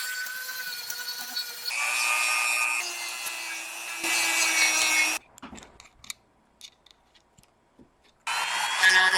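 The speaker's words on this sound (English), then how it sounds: "I'm sanding his legs smooth, and then I'm just going to sculpt in my own detail" Plastic legs of a Starlord action figure being smoothed with a small power sander, a loud high whine in several bursts with brief pauses and faint clicks between them.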